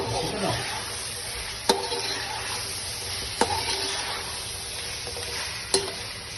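Par-cooked potatoes, already about 80% tender, are stirred into a sizzling chicken biryani masala in a pot. A steady close scraping sizzle is broken by three sharp spoon knocks against the pot.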